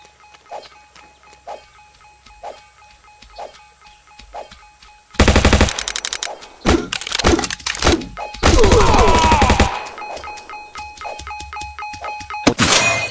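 Machine gun fire in the PC audio game Shooter CD comes as loud, close bursts of rapid shots mixed with heavy thunks, after several soft ticking blips at the start.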